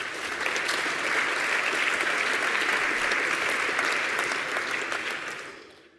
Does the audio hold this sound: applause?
yes